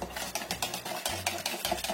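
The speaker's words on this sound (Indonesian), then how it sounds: "Kemudian kita aduk." Coconut milk and water being stirred in a container for savoury kue bawang cookie dough: quick, rhythmic scraping and sloshing strokes, close and fairly soft, with no talking.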